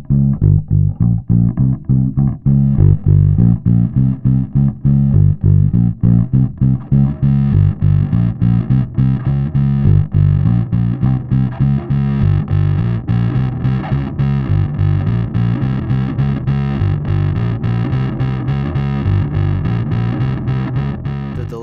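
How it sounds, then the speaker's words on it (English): Bass guitar played through an Electro-Harmonix Deluxe Bass Big Muff Pi fuzz pedal, with its blend control mixing dry and distorted signal, gives a loud, thick fuzzed bassline of steady repeated picked notes with sustained distorted tone throughout. "the blend control, which allows you to vary the mix between distortion and dry signal, going from full dry to full distortion and everything in between"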